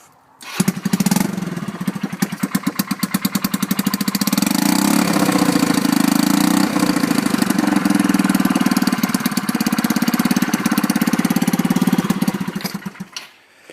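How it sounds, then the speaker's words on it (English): A Kymco Miler 125 scooter with a rusted exhaust starts up and runs, a loud, rough, rapidly pulsing engine roar held steady for several seconds before it cuts off, with no voices over it. "I'll go ahead and start this thing up. Bearing in mind this is not how a Kymco should sound"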